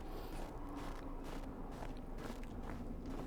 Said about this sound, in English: the crunch of the snow is so painfully accurate